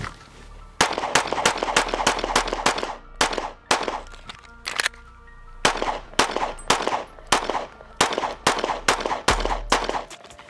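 Pistol shots crack out in rapid strings during a timed shooting drill, with about two dozen loud, close reports and one short pause partway through. Nobody speaks.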